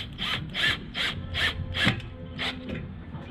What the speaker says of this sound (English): I have some old stainless steel bolt screws. And I'm gonna put that in place.